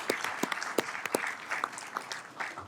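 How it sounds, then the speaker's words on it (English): Applause at a Sacramento City Council meeting for the mayor, vice mayor and council members, with scattered distinct claps in a brief, thin round that fades quickly. "Give them a round of applause,"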